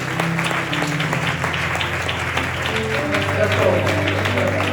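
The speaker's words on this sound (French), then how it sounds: "Clap for the Lord." A church congregation at a night service in Johannesburg claps along for the Lord, with steady dense applause over sustained music tones and voices throughout.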